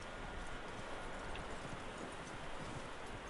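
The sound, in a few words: horse hooves in video game Red Dead Redemption 2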